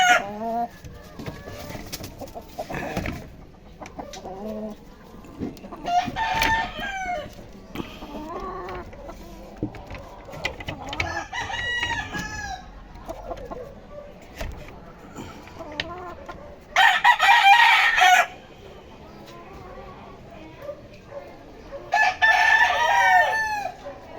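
Chickens clucking steadily close by, with a rooster crowing loudly in two long bursts, low background noise throughout.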